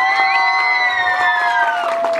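A small family group cheers for a contestant at a youth mariachi graduation, with high, sustained excited shouts, loud and close, with a little clapping mixed in.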